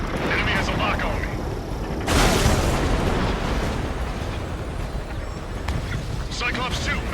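Missile hits in the jet combat game Ace Combat 7 give a heavy, roaring explosion burst partway through. Rumbling engine and battle noise surround it, and voices can be heard over the din.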